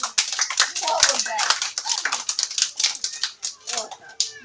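Children clapping at a Winnie-the-Pooh themed kids' game, with quick uneven claps in bursts and excited young voices talking and calling over them.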